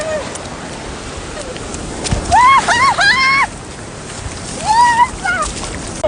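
Water sloshes and splashes as people run into the sea at Tarkwa Bay beach, with excited shouts and voices over steady surf noise.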